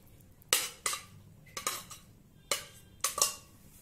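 A spoon scrapes and knocks against a pan while fried onion is stirred into chicken masala, giving about six sharp metallic clinks in an uneven rhythm over a quiet background.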